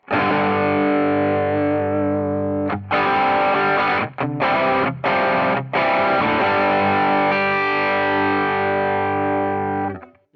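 Electric guitar through a Diana overdrive pedal into a Fender amp, overdriven chords ringing loud and sustained, with a few quick choppy strums in the middle before a long held chord fades.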